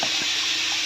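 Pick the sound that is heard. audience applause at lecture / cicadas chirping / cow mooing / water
water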